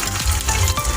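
Eggs go into hot oil in a pan for an egg curry, producing a loud, steady close-up sizzle and crackle throughout the short moment.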